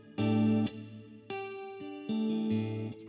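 An electric guitar plays sustained chords through a modulated reverb effect, several ringing, shimmering notes and chords sounding alone in succession.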